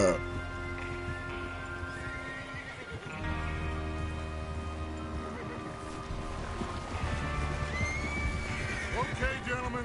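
Horses whinny and neigh in the Red Dead Redemption 2 video game amid clip-clopping hooves and background music, with a voice talking over much of it.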